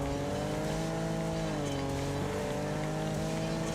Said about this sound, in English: The suspension is probably scraping along the ground.